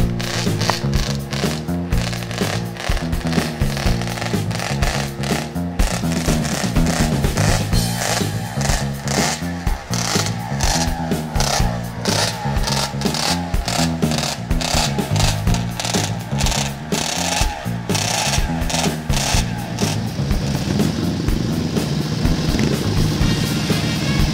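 Two-stroke twin racing motorcycle with expansion chambers at an AHRMA vintage race at Daytona, screaming continuously at high revs with busy harmonic buzz, loud and sustained throughout, with track and crowd ambience beneath.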